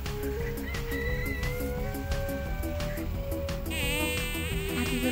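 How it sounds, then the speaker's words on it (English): Bumblebee buzzing close by among blooming mint flowers in a summer garden, a steady droning hum that shifts in pitch as it moves, with light background noise. "You see a bee's over here buzzing this one right now."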